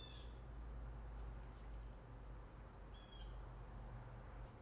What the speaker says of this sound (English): I've got some very loud birds literally in the branch outside of my studio.